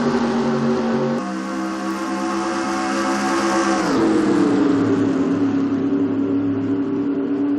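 Race car engines at the start of the Daytona 500 in a NASCAR racing video game, a loud steady engine drone that steps up in pitch as the cars accelerate, then holds a sustained roar.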